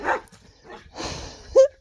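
Dogs barking nearby in a garden, a few short sharp barks and yips spaced across a brief moment, loud and close.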